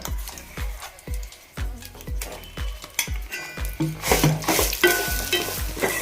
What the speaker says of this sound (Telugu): పేస్ట్ చేసి పెట్టుకున్న గోంగూరని వేస్తున్నానండి తాలింపుల్లో